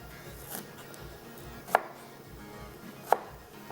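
Knife chopping onion into cubes on a board, two sharp distinct chops standing out from quiet kitchen background, with no talking.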